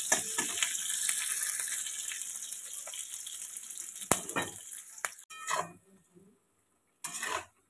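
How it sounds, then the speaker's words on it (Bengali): Onion fries in a pan before cauliflower and potato go in. A steady sizzle is broken by scraping and a sharp clink, then fades and cuts out, with a brief burst near the end. "তো পেঁয়াজটা একটু লাল লাল করে ভাজা হয়ে গেলে ফুলকপি আলুটা এর মধ্যে দিয়ে দেবো।"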